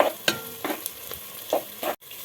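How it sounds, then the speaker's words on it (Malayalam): Ginger garlic paste frying in a pan after the onions have browned, a soft sizzle under a few quick scraping stirs of a spoon against the pan, close and brief. "നമുക്ക് ഇനി ഇഞ്ചി വെളുത്തുള്ളി പേസ്റ്റ് ചേർക്കാം. അതൊന്ന് മൂക്കട്ടെ."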